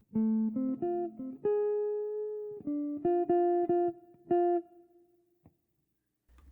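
A clean electric jazz guitar plays a quick run of picked arpeggio notes, settling into held tones with a subtle quarter-tone bend before fading to silence.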